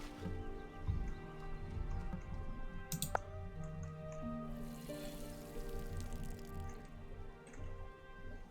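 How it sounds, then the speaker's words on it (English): Crops watered with a watering can in the farming game Wylde Flowers: soft dripping and squishy splashes over gentle background music, with a brief sharp click partway through. "Now you'll need to water them if you want them to grow."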